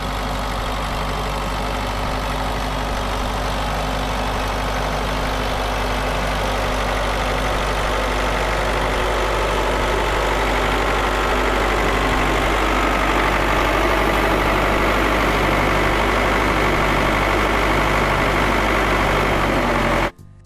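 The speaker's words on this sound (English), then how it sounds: "One tractor gives it a try, then another joins in." Tractors straining to drag a sweet corn trailer sunk in soft harvest mud, a steady deep diesel drone with a low throbbing hum holding for about twenty seconds before cutting off abruptly.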